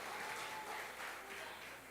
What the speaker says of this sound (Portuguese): Pode aplaudir, homens, pode glorificar o Senhor.